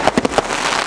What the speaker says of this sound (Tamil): நாலு வெடியில ஏரியாவே கலர்ஃபுல்லா ஆயிடுச்சுங்க